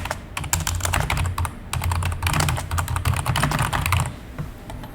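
Continuous, brisk typing on a computer keyboard fills the whole stretch with dense, close clicking and clacking, easing off near the end.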